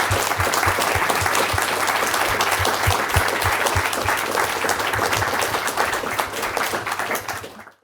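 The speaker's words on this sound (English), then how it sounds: "Let's give them a round of applause." An audience at the British Library applauds after a talk, with dense, sustained clapping from a seated crowd that holds steady for several seconds before quickly fading out at the end.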